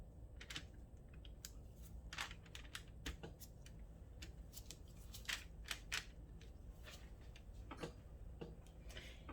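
A knife slices through a block of homemade turmeric soap in quiet, crisp clicks and ticks that repeat steadily and close up, with no talking.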